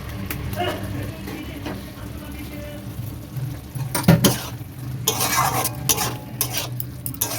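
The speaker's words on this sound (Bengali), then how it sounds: "এবার কষি মেথি দিয়ে নাড়িয়ে ফেলবো।" A spoon stirs chicken bharta with dried fenugreek leaves in a frying pan, with close scraping and clinking strokes over a low sizzle that grows busier toward the end.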